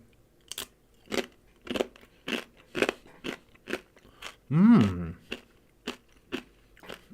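Loud, crisp crunches of a corn-chip-like Korean snack being bitten and chewed up close, about a dozen evenly spaced bursts with a brief hum partway through.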